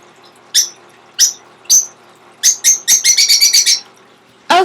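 Sharp, high bird chirps, a few spaced calls and then a quick run of rapid chirps, loud and close, with brief quiet gaps.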